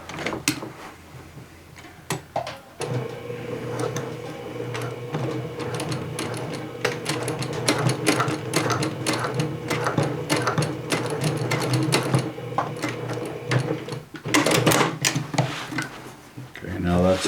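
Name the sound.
sewing machine stitching a jeans pocket to the side seam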